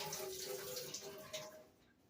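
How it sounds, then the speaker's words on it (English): Water poured off boiled potatoes from an Instant Pot, a faint close splashing pour lasting about two seconds before trailing off. "Let me pour some of the water off."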